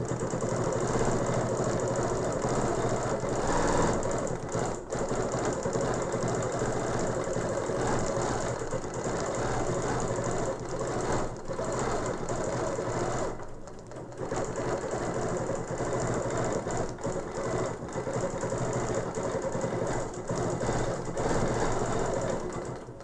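A sewing machine stitches a quilt with a continuous fast mechanical whir and needle clatter, running almost without pause, with a few brief dips where it slows or stops.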